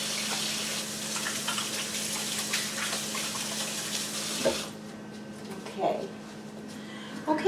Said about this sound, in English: I rinse my hands off real quick because I touched that meat